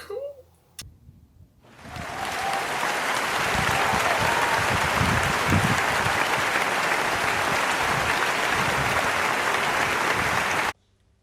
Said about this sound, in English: they even come out of their houses bang on 8 PM and clap for me